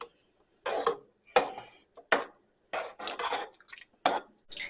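Tomato sauce chili is stirred in a pot, making a series of close, distinct scraping and clinking strokes of a utensil against the pot, separated by short silent gaps.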